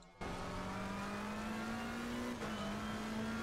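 A McLaren 720 GT3 race car in the Assetto Corsa racing game at Zandvoort, its engine note cutting in and climbing steadily under acceleration, with a brief dip as it shifts before pulling on again, loud and continuous.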